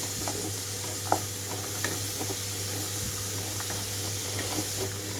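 Small beetroot pieces frying in a pan give a steady low sizzle throughout, broken by a few soft stirring scrapes and light clinks, with no talking.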